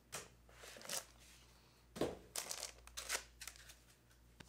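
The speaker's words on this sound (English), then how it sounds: "Unwrap po natin." Packaging of a 2020 Huawei MateBook 13-inch laptop being unwrapped: soft, quiet bursts of plastic crinkling and rustling, with two louder handling flurries between gentler rustles.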